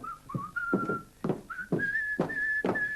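A person whistles the bouncy tune of Dixie, clear and close, with soft breathy pulses under the whistled notes.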